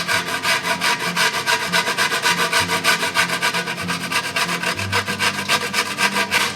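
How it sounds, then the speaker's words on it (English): A truffle is rubbed across a fine grater for popcorn, a steady rhythmic rasping of repeated close strokes without speech. "We're just going to use the same grater."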